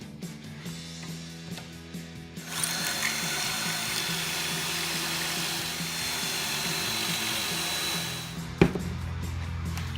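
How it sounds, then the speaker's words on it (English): A drill spins up after a couple of seconds of quieter mechanical noise, whines steadily for about six seconds drilling clamped pocket holes in wood, then stops with a sharp knock. "and bam, now we're ready to drill."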